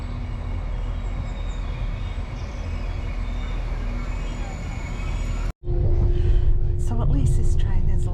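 Steady low rumble of a moving passenger train bound for Halifax, heard from on board, constant and close, with a brief sharp dropout before the rattling noise resumes and a voice speaks.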